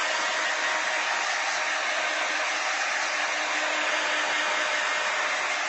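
A heat dryer blows over a painted art journal page, giving a loud, even, continuous whoosh that holds steady for several seconds with no talking.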